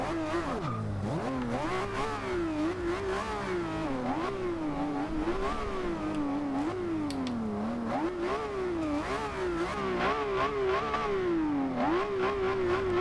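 A 2012 Lamborghini Aventador LP700-4 in Forza Horizon 2 revs its engine repeatedly while parked, rising and falling in a steady series of loud, close, throaty swells that continue for the whole stretch, with no talk over them.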